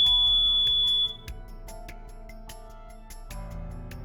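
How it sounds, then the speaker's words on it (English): A smoke alarm test gives a high, steady electronic beep that cuts off after about a second, followed by in-game music in AI: The Somnium Files. "It was more like a test beep."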